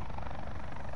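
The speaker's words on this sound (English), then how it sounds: "There's another chopper in the air as well." A video game helicopter drones steadily overhead with a loud, continuous rotor roar and no talking.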